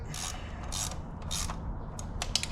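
Ratchet wrench clicking as bolts are tightened by hand, a few short bursts of ratcheting spaced across a couple of seconds, close and moderately loud with no talking.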